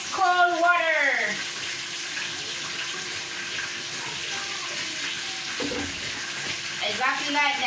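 Ice cold water pours into a pot of syrup in a home kitchen, a steady broadband rush running for several seconds, with a voice rising briefly at the start and end over it.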